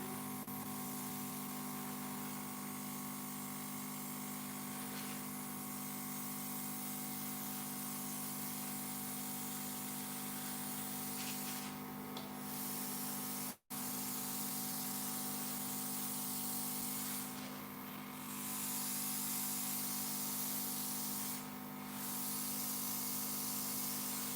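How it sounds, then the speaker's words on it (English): Airbrush spraying buttercream onto a frozen cake, a steady close hiss of compressed air running almost unbroken throughout, with one brief cut-out midway and no talking. "Just gonna start airbrushing here."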